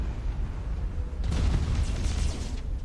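Torpedo hits on a ship in Battlefleet Gothic Armada: a low rumbling blast swells up and rolls on with crackling debris, moderately loud over a deep constant drone.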